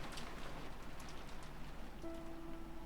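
Steady rain pours down as a sound effect in the visual novel Umineko, a continuous hissing downpour at low level with a faint tone entering near the end.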